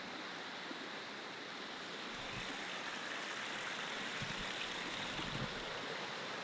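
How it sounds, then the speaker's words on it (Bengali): Clear water spills and tumbles down a small stream into a lake-like pool, making a steady, dense rushing hiss that stays even and close throughout, with no voices. "দেখেন পানিগুলো কীভাবে গড়িয়ে গড়িয়ে পড়ছে।"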